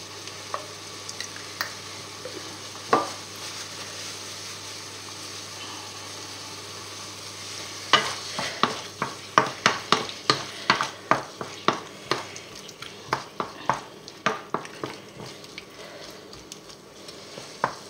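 Squid in a Basque-style sauce bubbling gently in a pan: a quiet start with a single knock, then a run of soft rhythmic bubbling pops and sputters near the pot.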